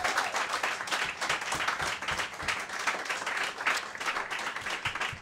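Steady applause from a comedy roast audience before a main event fills the whole stretch, a dense wash of clapping with no pauses, moderately loud and even throughout.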